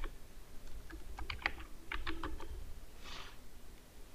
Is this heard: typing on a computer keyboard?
yes